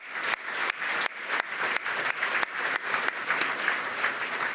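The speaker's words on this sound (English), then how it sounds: "if you could help me give a round of applause to the Watergate staff for the great work that they're doing" An audience at a gala welcome address claps for the venue staff, a dense, even round of applause that carries on steadily through the short span without any voices.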